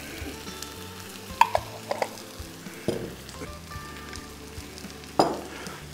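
Sweet and sour chicken is stirred in a pan with a low sizzle under scattered spatula scrapes and a few sharp metallic clinks against the pan.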